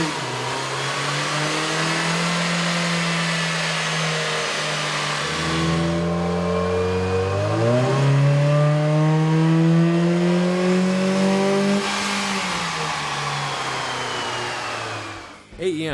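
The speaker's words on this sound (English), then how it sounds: "Here's a comparison of the Fiesta's sound on the dyno with the stock OEM system versus AEM's" Ford Fiesta engine fitted with an AEM air intake revving on a dyno, a loud sustained drone whose pitch climbs and falls across several rises, steady and close throughout with no talk.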